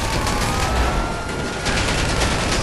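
Sustained gunfire in GTA 5, dense and continuous with overlapping shots and blasts filling the whole stretch at steady loudness.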